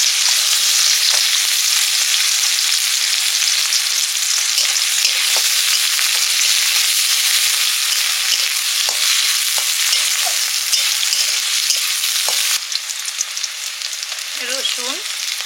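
Fish, potatoes and onion fry in hot oil in a pan, a loud, dense, continuous sizzle held for about fifteen seconds with faint scraping stirs, easing slightly near the end.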